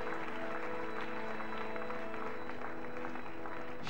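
A church congregation claps steadily and densely through the whole moment, a continuous wash of applause over a held musical drone, with no clear gaps.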